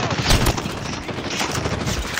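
Dense video-game gunfire rattles nonstop, with overlapping rapid shots forming a loud, continuous fusillade.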